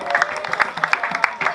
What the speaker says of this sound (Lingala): Voilà, c'est parti avec vos acclamations.